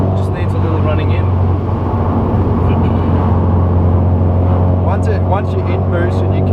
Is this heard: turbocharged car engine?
yes